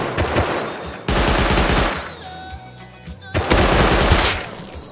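Rapid automatic gunfire from a Rust match, loud and close, firing in three sustained bursts with short quieter gaps between them.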